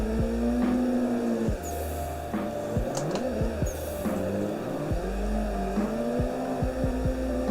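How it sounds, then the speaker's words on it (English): Simulated race car engine in a sim drifting game, revving and bouncing through repeated clutch kicks, with rising and falling tones, sharp rev dips and a steady droning hum underneath. "I'm gonna do some clutch kick drifting"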